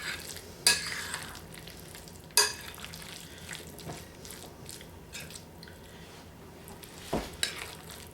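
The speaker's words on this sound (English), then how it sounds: "It's easier to mix before you refrigerate it because it does thicken up." Potato salad with homemade mayonnaise being stirred in a bowl before chilling: soft, wet scraping and squelching runs throughout, with a couple of sharper utensil knocks against the dish early on and another near the end; no speech.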